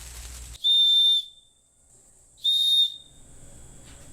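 A small whistle on a survival bracelet gives two sharp, shrill blasts of about half a second each, separated by quiet, with faint background rustle before and after.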